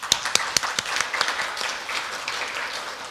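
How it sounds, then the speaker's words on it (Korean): An audience applauds at the close of a university leadership lecture: a steady wash of many hands clapping, with a few sharper, louder claps near the start, fairly close and with no voices. "열정적인 강의를 해주신 서 교수님께 다시 한번 큰 박수 부탁드립니다."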